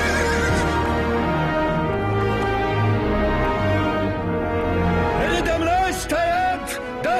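A horse neighs loudly and at length, its whinny rising and falling in several drawn-out calls, close by, with a busy background beneath and brief sharper cries near the end.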